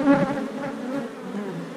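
Honey bees from a calm hive hum in a dense, steady buzz that fills the space, close and continuous with no talking.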